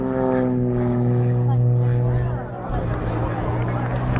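Extra 330 aerobatic propeller plane at an air show, its engine droning with a strong steady tone that shifts partway through, heard amid crowd babble and a nearby commentator's voice.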